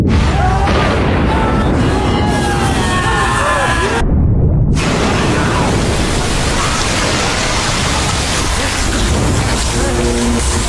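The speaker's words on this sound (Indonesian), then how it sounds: "torpedo itu kembali meledak untuk kedua kalinya" A heavy, roaring blast of broadband noise fills the clip, briefly cut by a short gap, then rumbling on loudly and steadily, like a deep underwater explosion.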